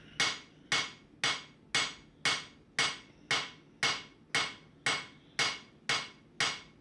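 Steel kitchen knife blade being forged by hand, twelve evenly spaced ringing hammer blows on hot metal, close and crisp with short decays between strikes, nobody talking.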